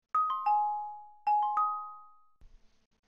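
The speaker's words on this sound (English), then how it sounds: "I would have pressed on test, and it'll give me a little chime" The Windows 11 audio output test chime plays twice, a clean two-tone ding-dong close up with a long fading ring, followed by a faint click.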